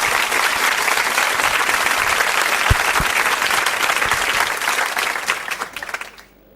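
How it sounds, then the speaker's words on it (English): Audience applause at a World Youth Skills Day event in Yabatech's hall as a speaker walks to the podium: dense, steady clapping from a crowd with a few sharp individual claps, fading out near the end. "can we give her a resounding round of applause as she goes to the podium?"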